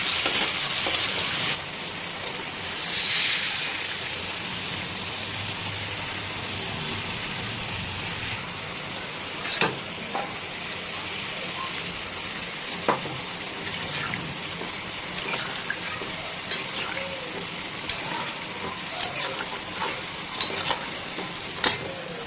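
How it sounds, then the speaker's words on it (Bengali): Water poured into a pan of hot Aar fish curry masala, a bright hiss and gush at first, then steady bubbling and sizzling as it simmers, with occasional sharp clinks of a stirring utensil. "এবার দিয়ে দেবো পরিমাণ মতন জল"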